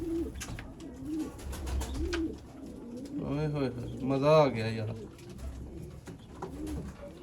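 Teddy pigeons coo nearby in repeated throaty, rolling calls, while someone talks excitedly over them.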